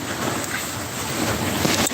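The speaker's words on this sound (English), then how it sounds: "I must say today is windy." Strong wind blowing steadily on a windy day, a broad continuous rush with buffeting gusts against the microphone, loud and close, with no voices.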